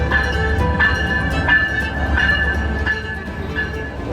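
A VIA Rail passenger train from Oshawa to Montreal rumbles along steadily with rhythmic clicks and clacks from the rails, heard from inside a business class carriage.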